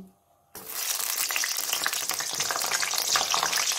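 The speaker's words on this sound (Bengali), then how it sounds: "তেলটা গরম হয়ে গেছে, এবারে আমি বেগুনগুলো আস্তে আস্তে করে ছাড়ছি।" Brinjal (eggplant) pieces for a pickle drop into hot oil after a brief silence, then a loud, steady sizzle and crackle of frying continues without letup.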